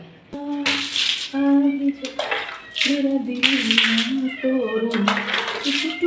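Water splashes and pours in repeated bursts as tiles and small idols are washed, with a tonal, meow-like voice sounding over and between the gushes.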